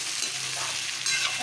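Capsicum, peas and carrots fry in a pan for a carrot, pea and capsicum sabzi while being stirred, giving a steady close sizzle with soft scraping, and no voices.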